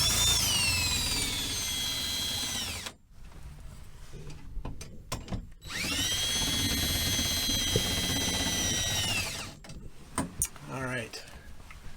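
A power tool drives roof AC mounting bolts on a 1977 GMC motorhome in two sustained whirring runs, each a few seconds long, close and loud, with short pauses and brief clicks between them.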